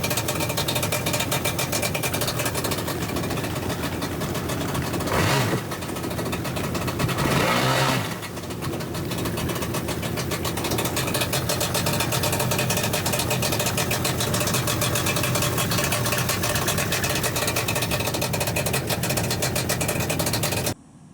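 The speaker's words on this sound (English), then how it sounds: "I thought I could come out here and run some gas through it on the hitch and, you know, break the engine in a little bit." A Yamaha Superjet jet ski engine runs on its trailer hitch with a B-pipe fitted, a loud, steady buzzing drone that holds almost unbroken, with a couple of brief rev surges partway through, before cutting off at the end.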